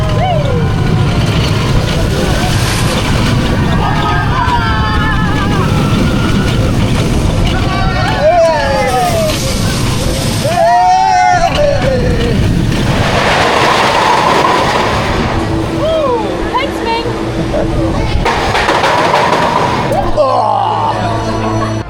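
Vekoma boomerang roller coaster Generator ridden in the front row, continuous loud rumble and clatter of the train on the track with wind noise, rising and falling whooshes, riders' voices mixed in.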